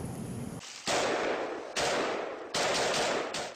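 Machine gun fire from attacking planes as a sound effect, loud and close, in three sustained roaring bursts separated by short gaps.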